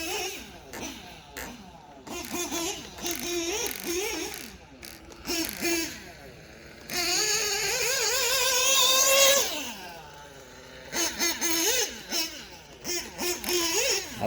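An OPS Speedster Power .21 nitro engine RC car drives a track, its small engine buzzing and rising in pitch in repeated throttle bursts, with one long high-revving run near the middle and low idling dips between.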